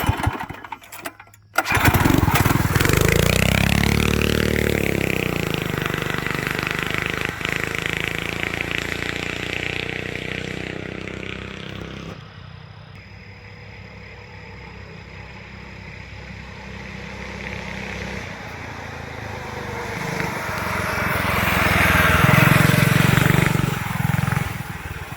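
Small engine on a Manco Dingo go-kart starting up and running, a close buzzing drone that rises, dips to a steadier idle, then swells again as the idle is turned up.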